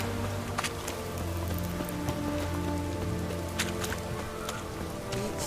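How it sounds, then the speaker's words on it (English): Rain falling in The Witcher 3 game, a steady patter of drops on surfaces with occasional sharper splashes and low tonal ambience underneath, no voices. "It's raining, of course it's going to be damp."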